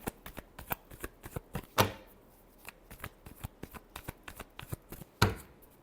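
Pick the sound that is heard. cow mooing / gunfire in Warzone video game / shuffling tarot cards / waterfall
shuffling tarot cards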